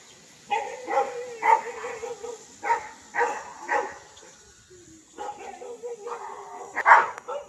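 Dogs at a farm bark in a series of short, moderately distant yaps and woofs, irregularly spaced with brief pauses, in a quiet rural setting.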